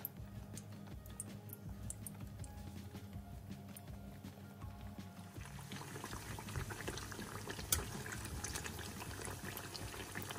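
Aubergine pakoras fry in hot oil, a steady close sizzling and bubbling that thickens and brightens partway through as more batter goes in, with no talking.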